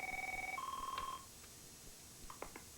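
A telephone rings for an incoming call on a radio call-in show, a short warbling electronic ring that shifts into a single held tone and then fades, leaving faint background hiss and a few soft clicks.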